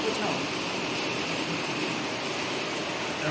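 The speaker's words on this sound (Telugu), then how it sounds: "వర్షం వస్తుంది అన్న" Rain falls outside a home, a continuous even wash of steady patter and hiss filling the short stretch without pause.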